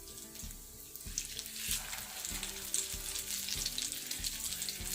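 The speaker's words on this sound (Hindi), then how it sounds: "इसी तरह इस साइड को भी 3 मिनट के लिए फ्राई करेंगे।" Aloo tikki potato patties fry steadily in hot oil with a continuous close sizzle and faint crackle, alone with no voices.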